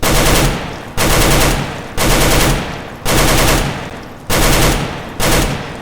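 AK-47 in the game CS:GO firing repeated short bursts of about four shots, loud and close, each burst separated by a brief pause, six bursts in a regular rhythm.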